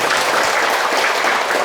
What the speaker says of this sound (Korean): 어머니 건강하시라고 우리 박수 한번 보내드릴까요?